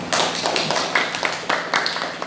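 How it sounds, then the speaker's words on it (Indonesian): A math class clapping after a correct answer, a lively patter of many hands with distinct sharper claps standing out, close and fairly loud. "Oke, tepuk tangan dulu."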